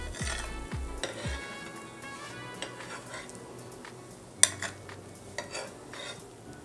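Bread slices for spicy masala toast cook in a pan with a soft, steady sizzle, punctuated by scattered clinks and scrapes of a utensil against the metal and one sharper knock, without any voices.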